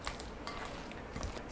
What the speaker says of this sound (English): Mixing everything really well